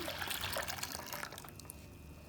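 Water is poured into a milk-based dough mixture for Turkish gözleme flatbread, a soft splashing trickle that starts fairly strong and gradually thins out, quiet and close with no talk.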